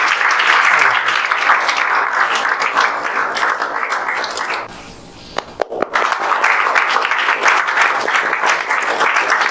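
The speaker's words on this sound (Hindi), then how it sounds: "तो उसके लिए आप लोग जोरदार ताली से स्वागत करते हैं।" Loud welcoming applause from a crowd at a coaching-class celebration for students' JEE Main results, dense clapping that dips briefly midway and then surges back just as strong.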